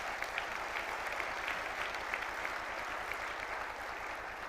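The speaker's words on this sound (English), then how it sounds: "Give yourselves a round of applause." An audience at an MLK breakfast event claps in sustained, dense applause, a steady wash of many hands at moderate distance.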